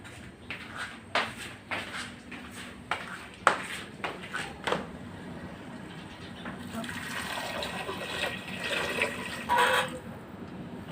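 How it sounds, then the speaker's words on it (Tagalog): Water poured into a pot of boiling mung beans on the stove, a gurgling, splashing fill that swells in the second half, with earlier clinks and taps of utensils and someone speaking nearby. "Lagyan natin siya ng tubig."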